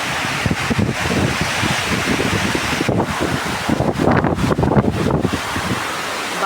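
Gusty wind and steady morning rain make a loud, rough, continuous rush with buffeting bursts against the microphone and no voices.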